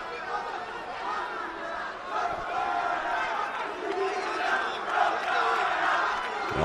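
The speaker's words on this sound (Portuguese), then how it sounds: "Vocês estão ouvindo aí, essa é a vibração aí da torcida da Jeff Team em cima da Julia Alves" Jeff Team supporters in the crowd roar and shout for their fighter at a Rio Grand Slam 2024 jiu-jitsu match, a sustained, swelling wall of voices and chants filling the arena throughout.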